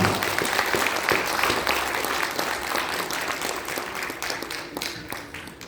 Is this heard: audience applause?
yes